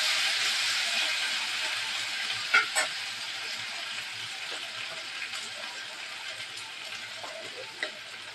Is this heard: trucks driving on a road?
no